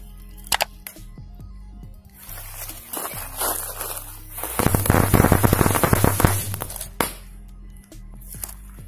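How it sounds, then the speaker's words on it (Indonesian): Small firecrackers set off beside a Gundam model for real explosion effects in photos: a few sharp, close pops followed by a dense burst of crackling and sizzling that fades, then a final lone crack, with no talking. "Lalu ini adalah petasan yang ketiga."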